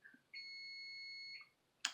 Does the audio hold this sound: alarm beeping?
yes